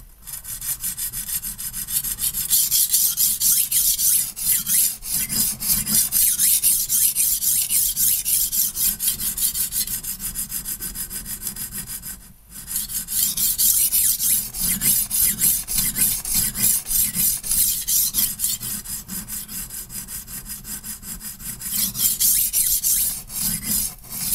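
Steady, close grinding rasp of a knife drawn over a HORL 2 rolling sharpener stone, in long continuous passes broken by one short pause midway, with no voices.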